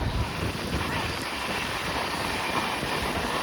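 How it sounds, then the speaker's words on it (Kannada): An express train racing at about 110 to 130 km/h between Tirupati and Chennai, heard from inside as a loud continuous roar of rushing wind and rumbling wheels, with no speech. "ಹೆವಿ ಸ್ಪೀಡಲ್ಲಿ ಹೋಗ್ತಾ ಇದೆ ನಮ್ಮ ಟ್ರೈನ್"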